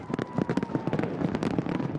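Fourth of July fireworks going off in a rapid barrage of crackling pops and booms, dense and loud with no pauses, no voices heard.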